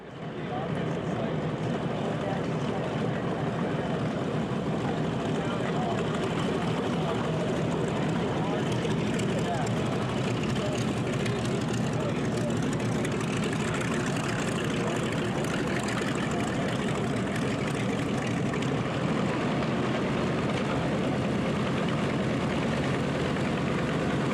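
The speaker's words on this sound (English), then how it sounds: "seeing those airplanes fly and listening to them too" Propeller airplanes, including P-51s, flying at the Planes of Fame airshow, giving a loud, steady engine drone that holds for the whole stretch with a broad roar and no pauses.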